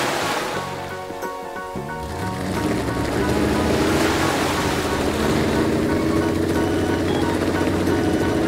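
Rough ocean waves surging around the rescue boat Neptune in a cartoon, a loud continuous rush of surf and water with wind noise filling the whole stretch.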